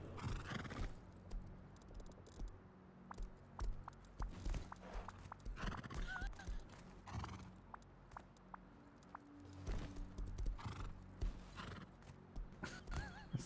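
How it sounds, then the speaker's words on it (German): Horses in the survival game Rust clip-clop and neigh repeatedly in a busy crowd, hoof clatter steady throughout with occasional whinnies, mid-distance and moderately loud. "Scheiße, wie viele Pferde."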